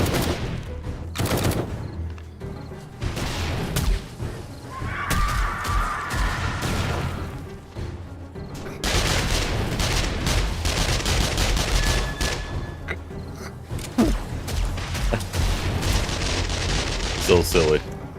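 Video game gunfire in 7 Days to Die, version A21.2, bursts out in loud rapid volleys, with a pause in the shooting while the weapon reloads and then sustained firing, mixed with other game noise.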